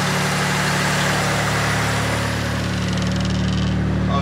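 Mitsubishi Legnum VR4 engine idling steadily during a basic engine health check, a constant low hum with a faint mechanical whine, close and unbroken, with no talk.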